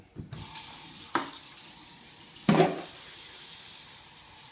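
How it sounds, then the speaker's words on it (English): Rice rinsed under running tap water, four cups in a pot, a steady close hiss of water with a few louder splashes and stirring bumps, no voices. "So I'm gonna cook up 4 cups of rice. Nice. Rinse it out real good."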